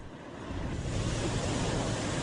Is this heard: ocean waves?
yes